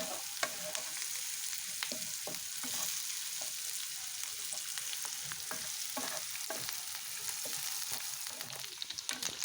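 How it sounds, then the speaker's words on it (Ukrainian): Lard and crushed garlic fry in a pan with a steady close sizzle, broken by repeated scraping clicks as the mixture is stirred throughout. "Закидуємо сало. Затим давлений чесничок та все це перемішуємо."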